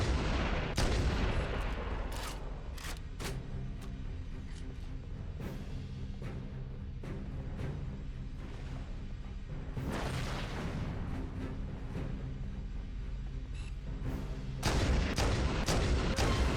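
Repeated gunshots from a weapon in Halo: Combat Evolved, sharp cracks in irregular bursts, several clustered near the start and end, over steady game background noise.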